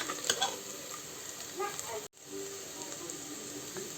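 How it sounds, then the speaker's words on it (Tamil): Small shallots sautéing in oil in a pan for a village-style Tamil mutton curry, giving a steady close sizzle with soft stirring scrapes and a brief pause near the middle. "சின்ன வெங்காயம் நல்லா வணங்கட்டும்"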